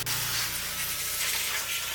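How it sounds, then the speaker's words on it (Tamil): A forceful water spray hisses broadly and steadily as it rinses a car at a car wash, close and continuous for a couple of seconds with no voices. "நெக்ஸ்ட்டு நல்ல ஃபோர்ஸான ஒரு ஸ்ப்ரே"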